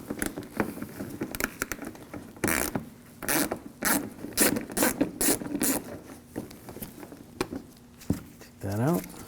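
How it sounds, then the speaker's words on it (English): An 8mm socket ratchet backs screws out of a 2007-2013 BMW 328i front bumper cover in bursts of quick, close clicking, separated by pauses, with a voice briefly near the end. "I'm going to take these screws out on the side,"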